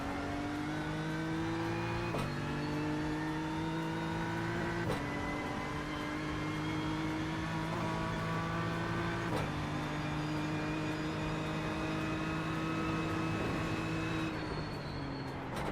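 A GT3 race car engine in a racing video game drones close and steady through a lap of the Nürburgring, climbing in pitch through each gear and dropping sharply at several shifts, with no talk over it.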